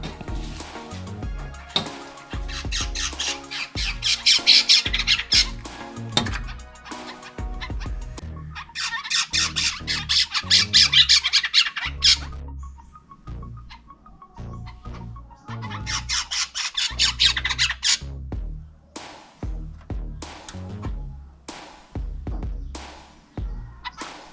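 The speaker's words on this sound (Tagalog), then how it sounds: "bumalik yung mga ibon, bumalik" Birds squawk in loud, repeated harsh bursts, a dense and rhythmic chorus that swells and eases in waves.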